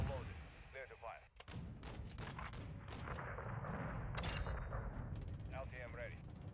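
Gunship cannon fire from a killstreak in Call of Duty Modern Warfare 2, loud rapid booming shots in dense bursts layered with explosions and game noise, with radio-style voices heard at the start and end.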